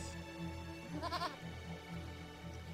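A goat in the video game Eternal Sonata gives a wavering, quavering bleat near the middle, faint and fairly short, over a steady background music bed.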